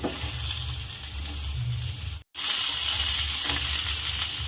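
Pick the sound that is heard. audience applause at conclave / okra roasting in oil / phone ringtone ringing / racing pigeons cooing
okra roasting in oil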